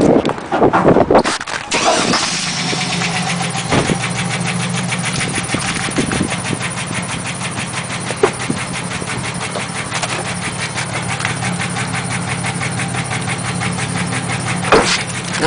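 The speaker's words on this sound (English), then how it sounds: "I'd like to turn my truck on here to show you the carbon coming out of the" A truck engine cranks and catches with a loud burst, then settles into a steady, rumbling idle with carbon coming from the exhaust, running on with occasional knocks and clatters.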